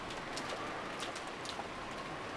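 Steady rain falls in the visual novel game Umineko no Naku Koro ni, a soft continuous hiss of drops with faint scattered patters, quiet and unbroken throughout.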